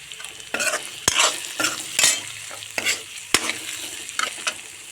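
Coriander and chili powder frying in a pan for an egg and potato dish, stirred with a spoon: steady close sizzle broken by repeated scraping strokes and a couple of sharp metallic clinks.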